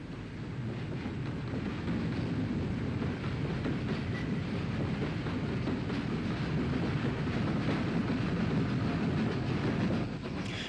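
A steam goods train, UG Class 0-6-0 locomotive, rumbles steadily past near Belfast in 1964 with a continuous low roar and faint rhythmic clatter of wheels, loud and close throughout with no voices.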